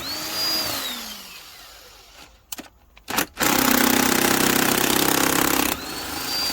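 An impact gun undoing the head bolts of a BMW 330d M57 diesel engine during a teardown: a few short sputtering bursts, then a loud, sustained close-up buzzing hammer that runs for about two seconds and cuts off, with no speech.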